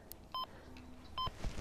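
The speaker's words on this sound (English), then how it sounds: "On goes Mike's luxury bobbin indicator" Fishing rod bite alarm with a bobbin indicator, set up on a bank during a solo overnight fishing trip, giving two short electronic beeps about a second apart, clear and close, with a faint low hum behind.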